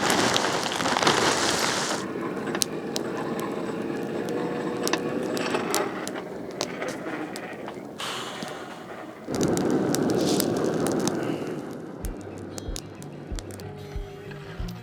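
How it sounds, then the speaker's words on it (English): Heavy rain pours down outdoors near an old Alldays and Onions forge, a dense, loud hiss of drops on surfaces that eases and surges again, with scattered clatters and a few soft thumps near the end. "the heavens opened and we got a whole dump of rain"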